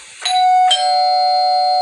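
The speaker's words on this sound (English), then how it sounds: "The doorbell rang again." A doorbell chimes twice in a home, the two close strikes ringing into a bright, sustained tone that hangs clearly with nothing else around it.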